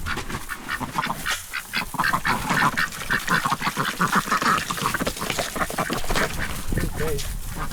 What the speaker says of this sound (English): Ducks really amaze me though, like just the way they are.